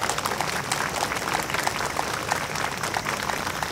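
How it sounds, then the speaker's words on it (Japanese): An audience claps steadily for a young trumpet soloist, a third-year junior high student from Noto, at a special performance praying for recovery from the Noto Peninsula earthquake, the dense applause filling the space with no voices. "大きな拍手をお願いいたします。"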